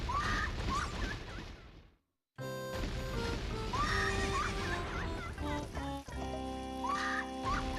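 A horse neighs repeatedly in a Zelda video game, its whinnies sounding loud over continuous game music and effects, interrupted by a brief silent gap.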